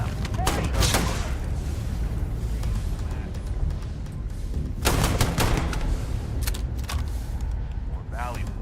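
Gunfire in the video game Dune Awakening, with bursts of shots in a busy firefight, several louder volleys and booms over constant background noise while a voice talks throughout.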